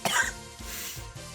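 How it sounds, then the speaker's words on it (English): A person coughs in a short burst of several harsh, close coughs, each hacking onset followed by a rough trailing breath, loud and with no talking. "Can't stop coughing, won't stop,"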